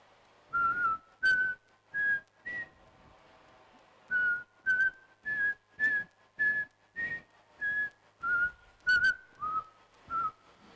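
A loud human whistle repeats in short, sharp blasts, about fourteen in a row with brief pauses between them, close and clear against near silence.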